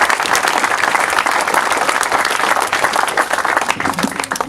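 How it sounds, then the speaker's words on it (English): A crowd at the official opening of Dursley Rugby Club applauds the club chairman with loud, dense, sustained clapping that fills the room at an even level throughout. "the guy there at the top as chairman deserves a round of applause from everybody"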